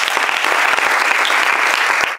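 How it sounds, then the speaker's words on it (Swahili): Sustained applause from an audience at a women's gathering, dense steady clapping throughout that cuts off sharply at the end. "tafadhali mwapigie makofi sana"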